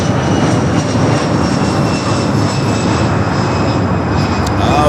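A DHL Boeing 777 freighter readies for takeoff at Los Angeles International Airport, its jet engines producing a loud, steady roar that fills the clip without letup.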